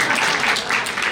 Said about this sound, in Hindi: एक बार जोर से ताली बजा के तो हंस लो।